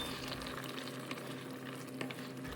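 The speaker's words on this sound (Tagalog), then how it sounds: "halu-haluin lang ulit natin ng mabuti" Sweet and sour sauce with pineapple being stirred in a pan, a steady close sizzle with soft scraping strokes running throughout, no voices.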